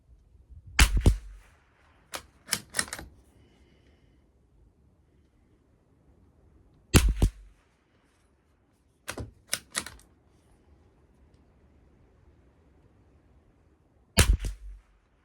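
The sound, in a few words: Savage MKII BTV rifle shots with CCI ammo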